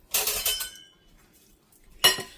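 Spaghetti pasta salad being tossed with Salad Supreme seasoning and dressing in a bowl, giving two short bursts of clinking, scraping utensil-against-bowl sounds separated by a quiet pause, fairly close.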